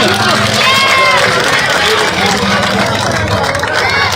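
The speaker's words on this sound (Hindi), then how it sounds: "जोरदार तालियां साथियों" Loud, continuous applause from a crowd at an outdoor village public rally in Bai, Gannaur, a dense clatter of clapping mixed with crowd hubbub and faint engine noise, lasting the whole stretch.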